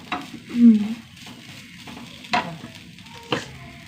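Curry leaves and spices fry in hot oil in a pan, a steady sizzle broken by a few sharp scraping stirs, close and fairly loud.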